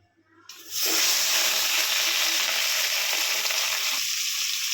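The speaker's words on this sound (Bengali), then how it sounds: "তেলে এরকম বুদবুদ উঠতেছে না, এখন মাছ ছেড়ে দেব" Fish slides into smoking-hot oil in a pan, and after a brief quiet moment a sudden loud burst of sizzling starts and stays strong and steady to the end.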